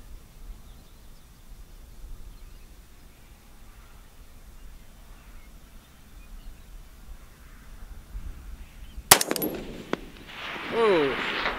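A 6.5 Grendel rifle fires at a long-range target, a sharp loud crack followed by a ringing report and echo near the end, after a long stretch of quiet outdoor background.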